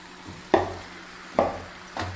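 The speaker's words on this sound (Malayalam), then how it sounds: "നന്നായിട്ടൊന്ന് മിക്സ് ചെയ്ത് നന്നായിട്ടൊന്ന് ഇതൊന്ന് മിക്സ് ചെയ്യണം" Marinated chicken being stirred and mixed in a pan for a chicken stew, with three distinct scraping, clattering strokes of a spoon against the pan at a steady, unhurried pace, close and moderately loud, with no talking.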